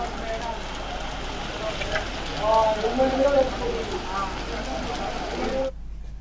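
Heavy rain pouring over city streets in Hyderabad during a downpour with traffic around, a dense steady wash of rain under a low rumbling hum, with a voice speaking over part of it before it cuts off.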